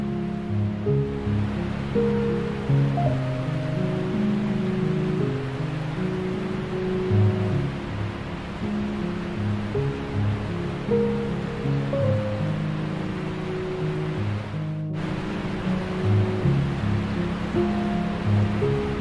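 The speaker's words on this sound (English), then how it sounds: "You see the first waterfall down there?" Water rushes steadily from a waterfall far below a gondola SkyRide over the river gorge in Spokane, a continuous broad roar overlaid by the low mechanical hum and rattle of the cabin.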